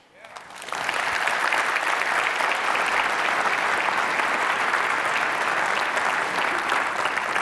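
Sustained audience applause from a large crowd at a DevOps conference's closing session, swelling in within the first second and holding as a dense, steady roar of clapping to the end.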